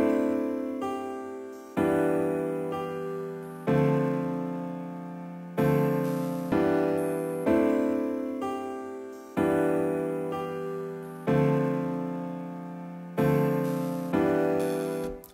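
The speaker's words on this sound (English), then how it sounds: "I put an effector on my piano and automated the X parameter" A piano in FL Studio with an automated bitcrusher-style effector repeats chords in a steady rhythm, each hit decaying before the next, with a gritty, shifting digital texture and no talk.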